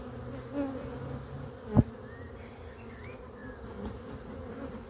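Honey bees swarm around an open hive with honey overflowing from the comb, a dense steady buzz up close, with one sharp knock partway through.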